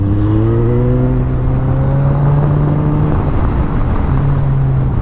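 A KTM 390 or Suzuki GSF1250 Bandit motorcycle accelerates out of a canyon-road corner, its engine note rising steadily through the gears under constant loud wind rush, close and continuous.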